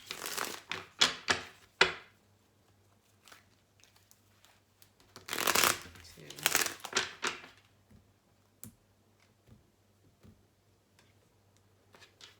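Tarot cards are being shuffled in quick riffling bursts, two clustered flurries separated by quieter gaps with scattered light taps and flicks, close and fairly soft.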